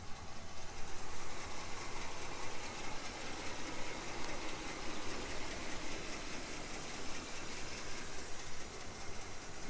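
A 1969 Chevrolet Caprice with its original 350 V8 idles after starting, a smooth, steady, fairly quiet engine rumble mixed with a constant broadband hiss throughout, with no speech.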